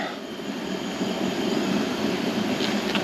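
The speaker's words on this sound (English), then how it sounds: "the wind is wanting to blow it out" Steady wind roaring across a solo Jeep campsite while food cooks, a loud broad continuous rush that never lets up.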